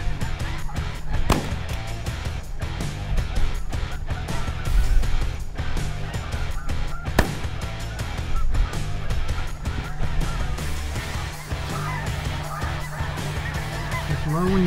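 A flock of snow geese honks continuously and loudly throughout a goose hunt, with dense overlapping calls, a couple of sharp bangs, and a low steady rumble underneath.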